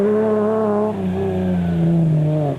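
Race cars in the 2004 Toyota 1000 endurance race, including Team Ford Racing and Nissan entries, droning loud and close with a strong harmonic engine tone that drops pitch briefly then sustains steadily.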